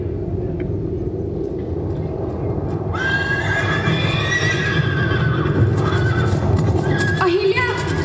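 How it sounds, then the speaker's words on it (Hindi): A group of horses rushes in fast during a staged historical drama, with loud neighs and whinnies rising over rapid clip-clopping hooves that grow closer and fuller toward the end. "इस और बहुत तेजी से घोड़े आ रहे हैं।"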